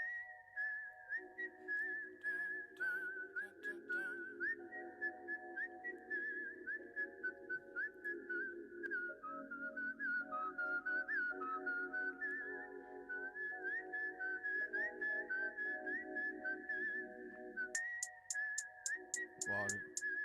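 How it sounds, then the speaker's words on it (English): Whistled melody opening a song, echoing the famous whistling theme from the Kill Bill movie, a clear sustained tune carried over a steady backing beat and bass line. "the whistling intro is from how I understand it, like the whistling part from the actual Kill Bill movie"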